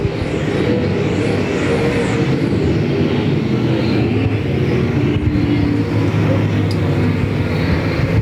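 Race cars roaring three wide down the back straightaway at Devil's Bowl Speedway, a continuous loud dense engine drone with no pauses and no speech.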